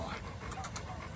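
A Rottweiler pants in quick, soft, breathy puffs close by, with a little whimpering and a human voice faintly mixed in.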